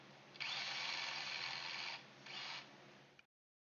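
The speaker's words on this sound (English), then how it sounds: "All you gotta do is countersink the holes." Power drill with a countersink bit boring screw holes, a near, loud whirring burst lasting over a second, a short pause, then a second shorter burst before stopping.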